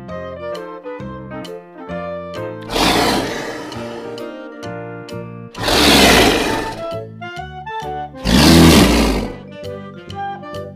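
A leopard roars three times, each a loud, rough, drawn-out burst about a second long, set over cheerful background music.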